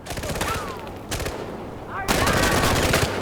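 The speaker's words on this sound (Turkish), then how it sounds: "Ağır Aha makinalı ben var." Heavy machine gun fire in the Far Cry 4 video game, dense rapid bursts of shots with a brief lull, then a louder sustained stretch of fire near the end.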